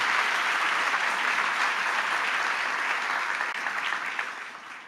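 A crowd at a 25th anniversary event claps for interns and alumni in dense, sustained applause that fades out toward the end.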